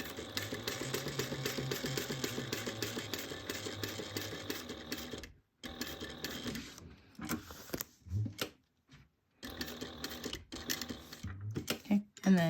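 A sewing machine stitches a bag seam an eighth of an inch in, a long steady run of fast rattling needle strokes up close, then stopping and restarting in short bursts with a voice talking between them.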